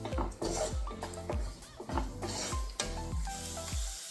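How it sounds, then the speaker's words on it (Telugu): Garam masala stirred into sizzling spice paste in a pan for restaurant-style palak paneer, with a steady frying hiss and repeated scraping strokes of a spoon against the pan, close and continuous. "గరం మసాలా వేసుకుని ఒకసారి ఇలా కలిపేసుకుందాం."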